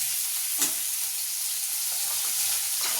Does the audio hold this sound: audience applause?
no